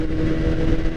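A 2016 BMW S1000RR engine drones at low revs under a gently feathered throttle, a close, steady rumble lasting about a second.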